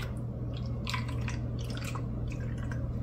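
Liquid trickles and drips softly into an ice cube tray in a kitchen. The light wet patter is faint and sits under a steady low hum, with no talking.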